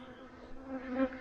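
Honey bees buzz at a hive's landing board, a close, steady droning hum that swells slightly toward the end, heard alone without voices.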